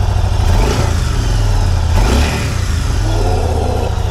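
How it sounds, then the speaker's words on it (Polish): Motorcycle engines revving and roaring close by, a loud continuous drone that swells and eases as the bikes pass, with no talking. "Motory są zawsze. Motory są wszędzie."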